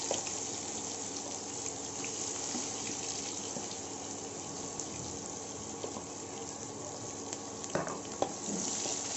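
Onions frying in oil with cumin and mustard seeds for a stuffed brinjal curry, a soft continuous sizzle with a few faint clinks and stirring sounds.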